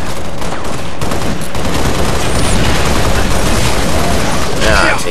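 Halo needle rifle gunfire: dense, loud bursts of rapid shots and crackling impacts fill the battle scene continuously, with voices talking over the firing.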